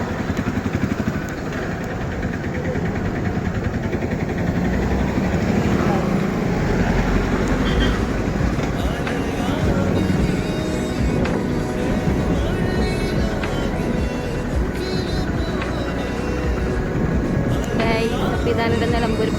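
Vehicle driving along a road in Nilambur, a steady engine drone and road rumble running throughout without letup, loud and close.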